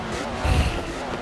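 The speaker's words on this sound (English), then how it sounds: "Ford working his way up next to the Porsche, using that draft as an advantage" Ford and Porsche GT race cars run side by side in an endurance GT championship race, their engines a steady, dense drone that briefly swells louder at mid-point before settling again.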